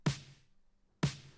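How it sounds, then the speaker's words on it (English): Two deeper, fuller snare hits from an electronic beat, a second apart, each with a thick low body and a noisy tail that rings briefly before fading, alone without talk. "And we've also got this more deeper sounding snare."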